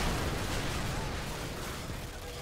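Frag grenade blasts in Modern Warfare 2, a steady roar of low, booming explosions and gunfire-like bursts that stays loud for the whole stretch, with a voice faintly under it.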